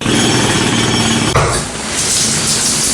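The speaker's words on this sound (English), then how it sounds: "wait, is that a jackhammer?" A jackhammer pounds continuously at close range as a loud, dense rattling roar that briefly dips before resuming, with no talk.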